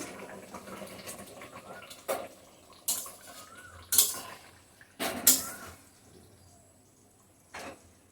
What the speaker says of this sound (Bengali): আমি গ্যাসের ফ্লেমটা অফ করে নামিয়ে নিচ্ছি